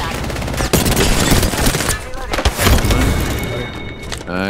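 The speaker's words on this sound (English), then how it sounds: "Getting shot at." Rapid automatic gunfire in the Apex Legends battle royale game, loud and sustained bursts crackling across the whole stretch with some louder individual shots mixed in.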